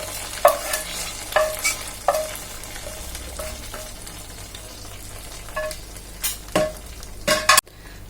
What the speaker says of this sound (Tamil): பொரிச்சதையும் தாளிச்சதையும் இதில் கலந்துக்கணும்.